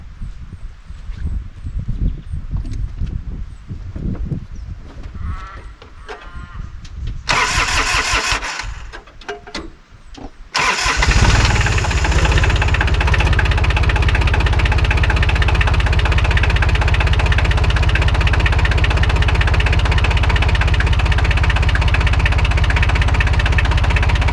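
A car engine being restarted after a leaking fitting was tightened: clicks and cranking at first, then the engine catches around the middle and settles into a loud, steady idle that runs to the end with no voices.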